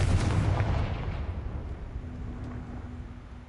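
A Confringo fire spell explodes in Hogwarts Legacy as a loud, booming blast that rumbles and slowly fades over a few seconds, with a low tone humming underneath.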